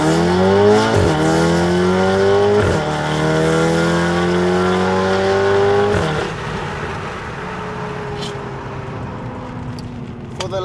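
A high-revving car engine climbs in pitch in repeated surges, briefly dropping between gear shifts, then settles into a rougher, lower drone. Loud and close.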